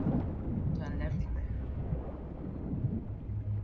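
A thunderstorm at sea in the video game Sea of Thieves makes a heavy, continuous low rumble with wind and rain-like wash throughout, and a faint voice briefly surfaces early on.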